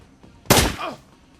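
A single sharp gunshot from the Shadowrun Returns video game, a loud close burst that decays over about half a second against a quiet background.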